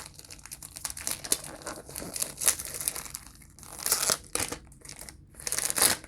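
Cellophane wrapping being peeled off a Mugler A*Men perfume box, giving bursts of crinkling and crackling plastic that rise and fall over several seconds, close up with no talking.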